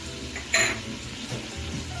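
A grated coconut and sugar mixture is stirred in a pan with soft scraping and light clinks, plus one sharper clatter early on.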